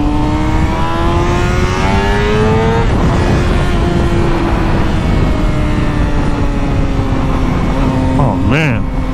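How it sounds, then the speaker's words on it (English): Motorcycle engine fitted with stock headers and a slip-on M4 exhaust, a loud continuous drone that rises steadily in pitch as it revs, dips, then climbs again, with a sharp rising whine near the end and some voice underneath. "the sound that you get from motorcycles are insane"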